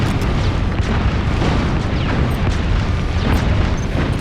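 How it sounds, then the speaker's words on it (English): Aerial bombardment in Metal Gear Solid 5: a dense, continuous rumble of overlapping explosions and booms, loud and sustained throughout with no pauses. "she has no answer for an aerial bombardment"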